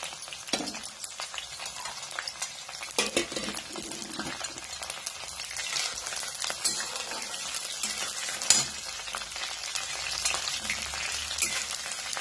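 Green chilli and garlic frying in hot oil in a pan for a pumpkin leaf and dill vegetable dish, a steady bright sizzle with intermittent scraping and stirring clatter from a utensil, close and continuous with no talking.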